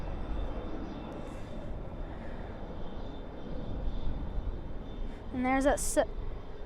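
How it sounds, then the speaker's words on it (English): A Boeing 737 airliner departs Dallas/Fort Worth airport at night bound for Chicago O'Hare, its engines a broad distant roar that swells slightly toward the end, with someone talking over it briefly. "737 that is heading to Chicago O'Hare"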